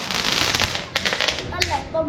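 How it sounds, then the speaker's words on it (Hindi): Diwali firecrackers crack and pop in a few sharp bursts amid a festive celebration, close by, with people talking over the noise. "ये हम पटाखा जगा रहा है।"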